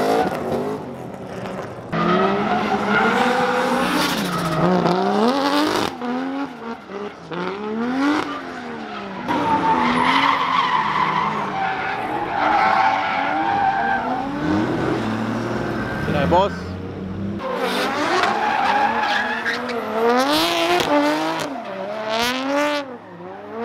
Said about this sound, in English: Have a listen to this LS swapped S13 ripping your ears.